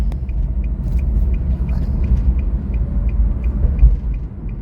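A Nissan Juke with a CVT gearbox pulls away gently on light throttle, a steady low engine rumble and drone that holds evenly throughout, close and moderately loud with no talk.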